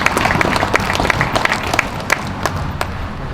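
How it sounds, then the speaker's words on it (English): Crowd at a Veterans Day ceremony clapping for a singer, dense applause with sharp individual claps standing out, fairly close, tapering slightly toward the end. "she raised another round of applause from everybody"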